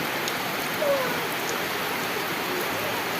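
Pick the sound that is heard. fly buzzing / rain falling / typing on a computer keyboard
rain falling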